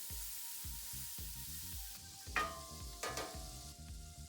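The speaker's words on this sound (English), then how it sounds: "We're gonna add a couple tablespoons of butter." A couple tablespoons of butter sizzle in a skillet, a steady crackling hiss near the pan with a few sharper spits and stirring scrapes.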